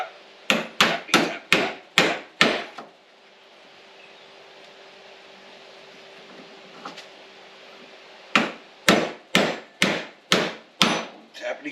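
Sharp hammer taps seat bearing caps onto a Chevy Suburban u-joint, a quick burst of about seven close, loud metallic-wood knocks, a pause with faint hum, then another run of about seven taps.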